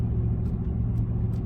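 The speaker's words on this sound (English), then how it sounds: "boy, that truck is loud" A loud truck engine rumbles heavily and steadily at close range, deep and constant, with no voices over it.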